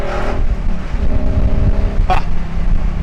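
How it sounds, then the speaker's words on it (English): A 2012 Ford Mustang Boss 302 engine roars steadily up close, its exhaust note rising and falling as the throttle is worked, with a brief sharp burst near the end. "That exhaust is great."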